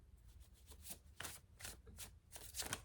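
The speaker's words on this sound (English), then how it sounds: "Look, I just looked down and I'm pre-shuffling." Tarot cards shuffled by hand in soft, close, rhythmic bursts of riffling and flicking, quiet and with no voices.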